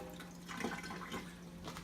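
Tap water runs softly into a sink while tomatillos are rinsed, a steady low splashing with a few brief gurgling surges, faint and close, no talking.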